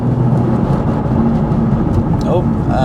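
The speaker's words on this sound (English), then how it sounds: "you can hear it like sucking in that air" A BMW M2 LCI tuned to Stage 2+ is driven at low speed, its engine intake drawing air in a loud, steady, throaty roar that continues throughout, with a voice speaking over it.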